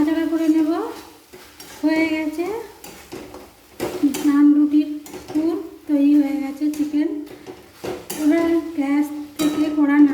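Cooked chicken being stirred with mayonnaise and tomato sauce in a pan, soft scraping and light sizzle that sit beneath a prominent, melodic, voice-like sound running through most of the stretch.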